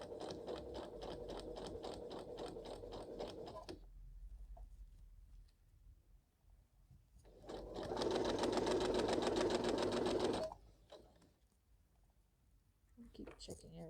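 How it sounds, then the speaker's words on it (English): Sewing machine stitching layers of tutu fabric, running in a steady close whir that stops, pauses quietly, then runs again louder for a few seconds before stopping. "Just keep sewing."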